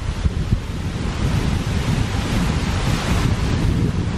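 A waterfall roars in a constant, dense rush of water, buffeted by wind noise on the microphone, loud and unbroken throughout.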